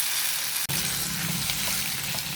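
Shrimp being sautéed in a pan for ginisang sayote, a steady close sizzle and fry with a brief drop near the start, no voices.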